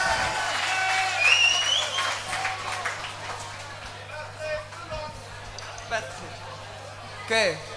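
Audience applause and cheering at a live rock concert in Roermond in 1999, following a saxophone solo, with a few whistles over a steady low hum; it fades toward the end before a last short burst.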